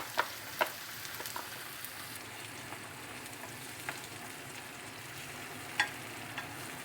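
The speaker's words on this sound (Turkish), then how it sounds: "ilave ettiğimiz domatesli salçalı bu sosumuzun biraz kavrulmasını bekleyeceğiz" Tomato paste sauce poured over onions, quietly sizzling and frying in a pan for stuffed artichokes, with a steady soft hiss and a few sharp spoon or utensil clinks.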